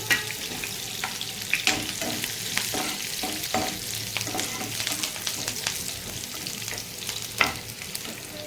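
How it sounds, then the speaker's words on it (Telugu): Onions and dried red chillies fry in a pan for a lentil and tomato curry, with a steady close sizzle and crackle under occasional stirring scrapes and louder pops. "అయితే ఉల్లిపాయలు వేసుకున్నాను"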